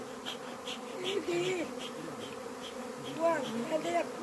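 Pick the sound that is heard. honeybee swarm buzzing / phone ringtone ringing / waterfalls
honeybee swarm buzzing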